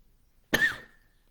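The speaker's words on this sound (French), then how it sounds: "Oui, je tousse encore." A single short, sharp cough from a woman, close and clear against near silence, with a brief trailing rasp.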